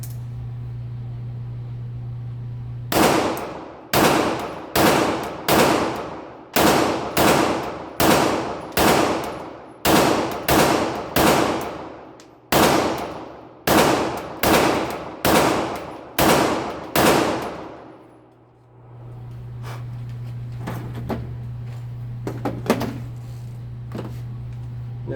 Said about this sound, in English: I'm going to shoot some guns here and have a little fun. First up is going to be the Springfield Prodigy.